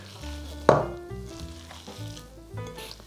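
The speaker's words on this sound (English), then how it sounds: "Mixing them all well together." Cooked rice stuffing for Greek-style stuffed vegetables being mixed by hand in a bowl, with soft squishing and stirring noises and one sharper knock near the start, close and fairly quiet, no talking.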